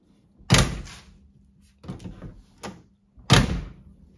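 The door of a 1958 Cadillac Eldorado Brougham is worked three times, each with a heavy latch thunk and a solid close, the sharp impacts standing alone with quiet gaps between them.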